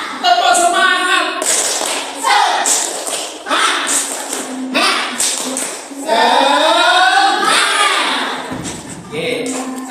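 A primary school class does the rhythmic 'tepuk semangat' spirit clap during a Year 5 fiqh lesson, with bursts of group clapping mixed into loud chanted children's voices that run steadily through the whole stretch.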